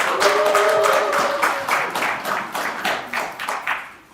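Audience applause at a Korean internet journalism awards ceremony, a steady burst of clapping from a crowd that gradually thins and fades over a few seconds, with no talking.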